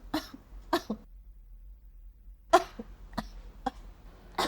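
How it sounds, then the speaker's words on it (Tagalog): A person performs a series of short, restrained coughs in an ad for a cough remedy, five or six separate dry bursts with pauses between them, near and fairly soft. "Ubo number 3. Mas subtle, mas nuanced."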